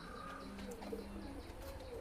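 A Teddy pigeon coos softly in a loft, faint low calls with a few chirps over a quiet background hum.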